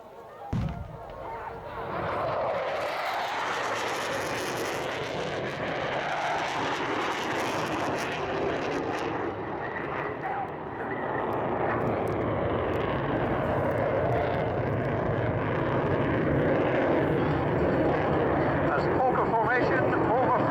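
Aircraft roars past at high speed during a military display at the Cosford Air Show, a broad, steady jet rush that fills the whole stretch under loud public-address commentary.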